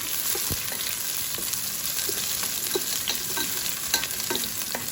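Onions sizzling steadily in a pan while being stirred, with small scattered clicks and scrapes of the utensil over a continuous frying hiss.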